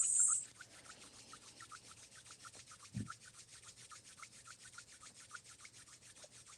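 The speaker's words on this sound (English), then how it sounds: "Rub your palms." Palms rub quickly together in a quiet room, making a soft, fast, rhythmic swishing that stays faint and close for several seconds with one brief dull bump.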